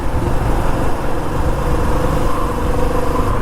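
A Royal Enfield Meteor 350 motorcycle engine drones steadily while riding at night, a loud continuous low rumble blended with rushing wind noise, without speech.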